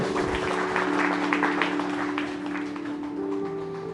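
Congregation clapping in a church service, a steady patter of hands over a sustained low hum, fairly close and continuous.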